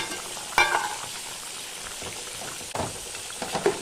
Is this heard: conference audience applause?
no